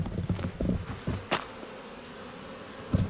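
Honey bees buzz around busy hives outdoors, short close passes of buzzing over a soft background with no talking.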